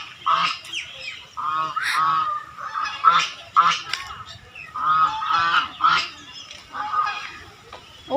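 Geese or ducks honk repeatedly near a duck house in a railway park garden in Kharagpur, loud, close calls coming in overlapping bursts with brief gaps, rough and nasal, no talk over them.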